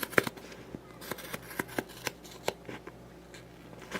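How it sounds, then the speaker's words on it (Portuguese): Scissors trim excess felt close to the stitching, making a steady series of soft, crisp snips up close, with no talk. "Agora eu posso vir cortar esse excesso aqui, cortar bem perto aqui da minha linha"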